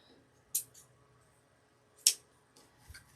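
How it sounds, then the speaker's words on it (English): Scissors snip ribbon twice, giving two crisp, close cuts about a second and a half apart, with a quiet room in between. "I'm going to cut that one off."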